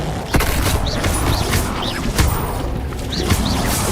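Levioso levitation spell cast in the Hogwarts Legacy video game, a busy stream of magical whooshes, clanks and thuds with a few sharp impacts and shimmering tones, loud and continuous throughout.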